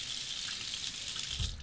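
Hot tap water running steadily onto a Henson AL13 aggressive safety razor being rinsed before a shave, a constant hissing splash throughout with a brief low clunk near the end.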